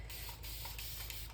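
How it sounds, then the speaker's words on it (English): A spray bottle mists water over watercolour paint wells in a palette, several quick close hissing spritzes in a rapid series, each a short burst of fine spray with brief gaps between. "Spray down these wells."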